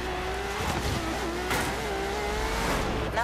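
A Nissan in the racing video game Forza Horizon 3 accelerates off the line at a race start, its engine droning and climbing steadily through gears, loud and continuous without talking.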